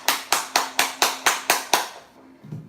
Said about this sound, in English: I want to clap myself